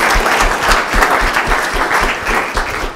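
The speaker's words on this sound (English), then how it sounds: "Let's give the guys a round of applause first." A live audience claps steadily at an entrepreneur speaker series event, dense even applause filling the room from start to finish with no talk over it.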